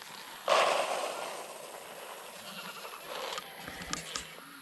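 A goat bleats loudly once up close, followed by quieter rustling and a few soft animal sounds nearby.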